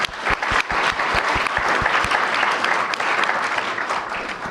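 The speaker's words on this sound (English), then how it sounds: "Let's give them a big round of applause." An audience at a university new venture challenge finals event breaks into loud, dense applause, with a few sharp individual claps standing out near the start before the sound settles into a steady, full roar of clapping.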